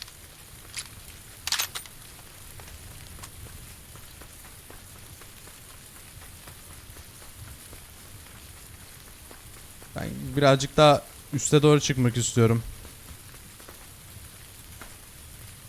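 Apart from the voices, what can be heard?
rain in a video game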